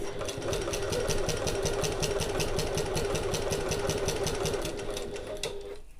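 A sewing machine back stitches across the double pins on a pocket, running steadily and rapidly at close range with a fast even needle rhythm for nearly six seconds, then slowing and stopping near the end.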